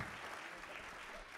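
An audience claps for a panel at a fashion education workshop. The applause is faint and even and fills the whole short stretch, with no talk over it.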